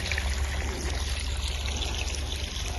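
Water trickles and pours steadily onto newly planted brinjal seedlings in a village field, a continuous close splashing flow with a low rumble underneath and no voices.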